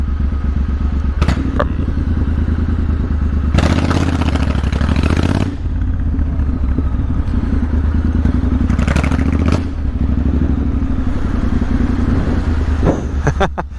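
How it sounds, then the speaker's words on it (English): A Triumph motorcycle engine rumbles loudly and continuously, its exhaust note swelling in a few revving bursts, heard close up with no talking, riding through London at night. "especially with the Triumph exhaust noise"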